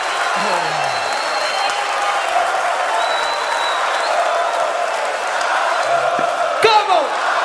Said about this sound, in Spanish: ¡Puro aplauso!